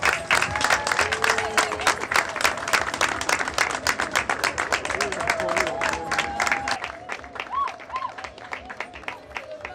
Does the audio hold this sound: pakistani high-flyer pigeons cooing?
no